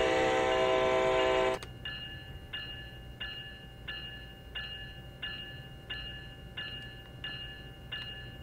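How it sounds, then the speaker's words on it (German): Warning signals from an ACS-64 electric locomotive in the Train Sim World video game: a loud sustained horn tone cuts off sharply, then a steady series of short, evenly spaced tones repeats over a low rumble. "Mit zwei kurzen Pfeiftönen informieren Sie Menschen um Sie herum,"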